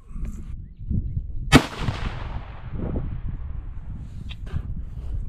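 A single loud rifle shot from a 25 Creedmoor cracks sharply outdoors and decays into a rolling echo, with quiet wind and rustling before and after.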